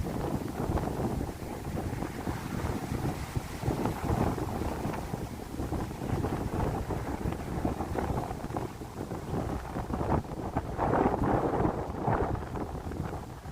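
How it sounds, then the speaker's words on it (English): Strong wind buffeting a microphone on a Manhattan street, a continuous heavy roar with gusts that swell louder near the end, alone without voices. "There's a pretty strong wind."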